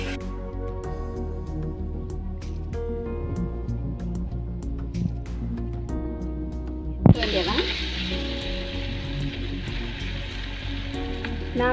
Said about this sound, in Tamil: இஞ்சி பூண்டு போட்டு நல்லா பச்சை வாடை போகிற வரைக்கும் வதக்க வேண்டியதுதான்